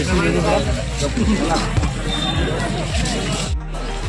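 A thick crowd bustles through the Sonpur market, a dense babble of many voices with footsteps and scattered thumps, loud and close, with someone talking over the din.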